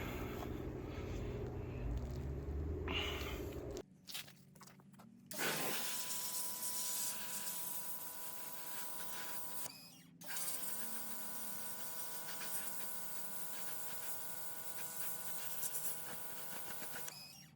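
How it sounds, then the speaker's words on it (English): A steady, hissing spray washes down a car part close by with a droning mechanical whine, cutting off briefly twice before resuming at an even level. "So this is a few minutes of spraying this thing down"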